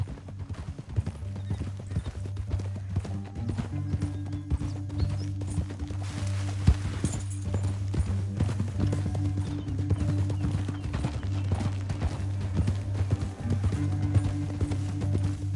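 Rapid hoofbeats pound in a steady galloping rhythm in Red Dead Redemption 2 throughout, over a low droning music bed, with a brief snort or whinny midway.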